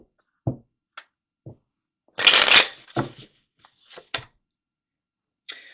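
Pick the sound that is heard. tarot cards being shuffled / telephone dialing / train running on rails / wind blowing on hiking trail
tarot cards being shuffled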